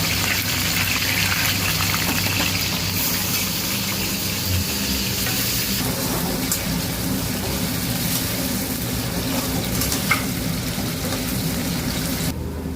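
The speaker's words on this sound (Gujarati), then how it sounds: "બટેકાને પણ આપણે છે ને બ્રાઉન ફ્રાય થવા દેવાના છે. ધીમા તાપે કરવાના છે" Potatoes shallow-frying to brown on a low flame for aloo biryani make a dense, continuous sizzle that holds steady and close throughout, loud and unbroken, with no talking.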